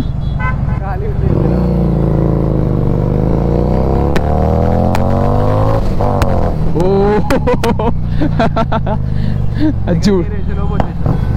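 A Harley-Davidson Street 750 motorcycle with a loud aftermarket exhaust revs hard and close by, its engine note rising and falling, with sharp pops and crackles near the end of the revving.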